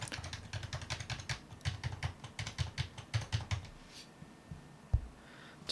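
Rapid clicking keystrokes on an HHKB Professional2 Type-S keyboard in quick bursts, close and crisp, trailing off into a few scattered taps and a low background hum.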